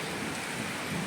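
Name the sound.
heavy rain falling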